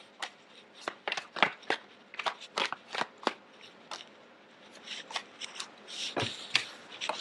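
Tarot cards shuffled by hand at close range, producing quick riffling bursts and soft papery snaps in an uneven rhythm, quiet and without speech.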